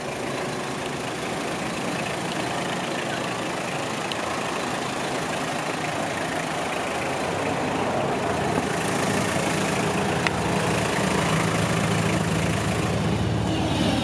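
A 1994 Mazda Bongo Wagon turbo diesel engine idles steadily nearby, a constant rumbling drone that rises slightly in loudness partway through, with no voices.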